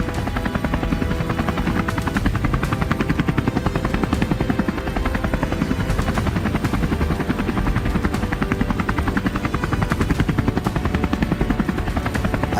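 A helicopter's rotor thumps steadily and loudly throughout, a continuous close, pulsing drone with no pauses, flying over farmland.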